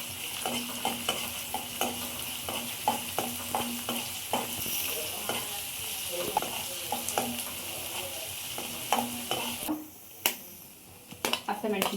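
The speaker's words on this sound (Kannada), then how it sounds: "ಇವಾಗ ಸ್ವಲ್ಪ ಬೆಳ್ಳುಳ್ಳಿ, ಶುಂಠಿ ಇದನ್ನು ಸ್ವಲ್ಪ ಫ್ರೈ ಮಾಡ್ಕೋಬೇಕು ಅಷ್ಟೇ." Garlic and ginger frying in a hot pan for mushroom pepper dry, a close, busy sizzle punctuated by quick, regular spatula taps that briefly drop off near the end.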